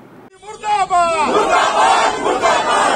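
A loud protest crowd demonstrating against the Central Vista project, with one voice calling out and a mass of voices roaring a slogan back together, close and sustained.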